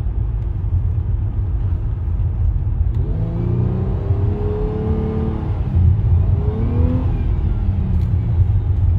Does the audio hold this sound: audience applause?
no